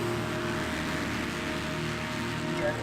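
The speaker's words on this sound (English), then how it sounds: "Rain, falling, possibly snowing." Steady rain falling at a motocross track on a wet day, a dense, even hiss that stays constant throughout, with a faint low hum underneath and no voices.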